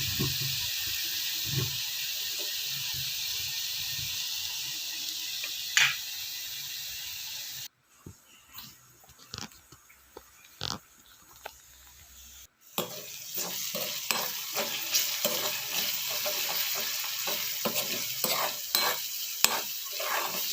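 Herbal hair-oil paste frying in oil on low heat and stirred often, a steady hiss and sizzle broken by scraping stir strokes, with a quieter stretch in the middle before the sizzle returns.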